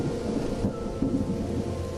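A heavy monsoon downpour in July comes with thunder: a low rumbling boom rolls under a continuous wash of rain, loud and close, with no voices.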